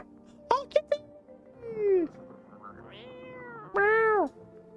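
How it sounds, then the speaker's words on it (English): A cat in a video game meows several times, drawn-out and close, with a few sharp clicks and game sounds in between and a person talking. "Oh, kitty!"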